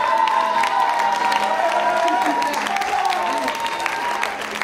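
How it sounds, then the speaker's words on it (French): A crowd applauds and cheers for a woman being honored, sustained, even clapping with shouts and whoops, and a voice carrying through the noise. "Est-ce qu'on peut l'applaudir?"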